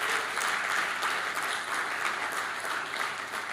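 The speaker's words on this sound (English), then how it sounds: "Please, let's give applause to our Almighty God." Audience applause at a mentors' conference, continuous, dense clapping from a sizable crowd, heard at moderate distance without talk.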